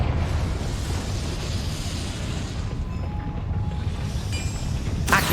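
Confringo blasting spell explosion in the Hogwarts Legacy video game: a broad, sustained rumbling roar of blast and debris filling the clip, with a sharp burst near the end.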